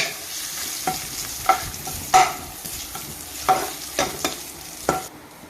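Tempering spices with asafoetida fry in oil while a spoon clinks and scrapes the pan in irregular strokes, over a soft background sizzle.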